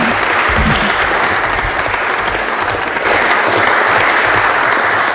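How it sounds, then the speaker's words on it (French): Council meeting audience applauding at a municipal session in Mont-Dore, a dense, steady burst of clapping sustained loudly throughout with a faint crowd murmur beneath. "je vous propose qu'on l'applaudisse"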